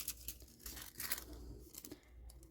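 Thin gradient nail foil tearing and crinkling close up, a quick run of papery rips and crackles in a quiet room, no talking.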